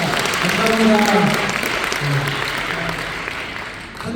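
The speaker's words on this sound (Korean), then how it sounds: "다 같이 박수 한번 드리겠습니다" A church congregation at a New Year worship service claps together in broad, steady applause, with harmonic voice traces mixed in early on and the clapping holding fairly even throughout before swelling again at the end.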